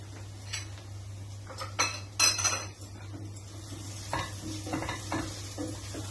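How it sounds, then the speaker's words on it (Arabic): Small green chili pepper stir-fried with browned onion and garlic in a pan, a soft steady sizzle under clattering utensil strikes and scraping, with a few sharper metallic clinks in the middle. "شوحي معاهم حته الفلفل دي"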